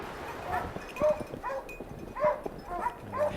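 Hunting hounds bay on a hot trail outdoors, with several dogs giving drawn-out, howling barks at irregular intervals over a steady background hiss, moderately distant.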